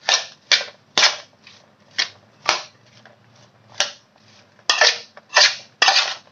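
Chana chaat is stirred by hand in a bowl, giving sharp, rhythmic clinks and scrapes of a spoon against the dish, about a dozen close strokes in a steady beat with no talking.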